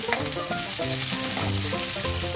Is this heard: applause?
no